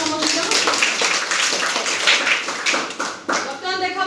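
A group of children clapping together in a classroom on a teacher's cue, a steady burst of claps across the clip with voices in the background.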